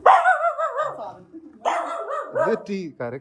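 A dog barks in short bursts close by, with a person talking over and between the barks.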